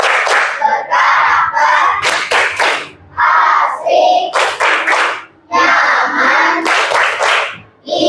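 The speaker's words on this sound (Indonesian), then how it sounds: "Biar semangat, kita tepuk dulu ya. Tepuk bangkit." A group of children claps in rhythmic bursts, hands beating in time with a shouted chant during a morning classroom cheer, loud and close, with voices and claps alternating in short energetic phrases.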